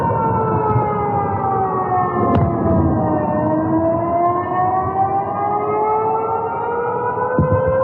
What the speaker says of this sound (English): We had another missile alert.